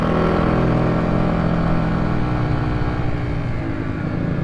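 A dirt bike engine running steadily while riding, a loud, continuous droning hum close by with a slight wavering pulse and no break.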